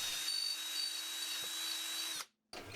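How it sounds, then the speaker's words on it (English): A drill press with a Forstner bit whines steadily as it cuts a hole in a guitar body, holding a continuous high tone, then the motor cuts out abruptly, a short silence before a sound resumes. "using the drill press with a Forstner bit, we'll add the hole for the kill switch"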